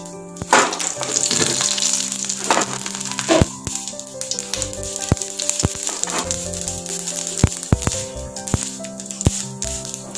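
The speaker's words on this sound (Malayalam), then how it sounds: "കടുക് പൊട്ടി തീർന്നിട്ടുണ്ട്" Mustard seeds spluttering and popping in a little hot oil in a pan, a steady close sizzle broken by sharp irregular crackles and pops, with no voices.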